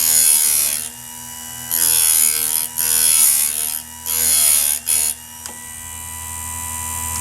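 Chicago Electric chainsaw sharpener from Harbor Freight grinding a chain, loud close bursts of high grinding separated by short quieter gaps as each tooth is pulled through, over a steady motor hum.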